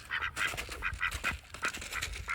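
Several White Pekin ducks quack in quick, nasal bursts close by, calls overlapping in an uneven rhythm.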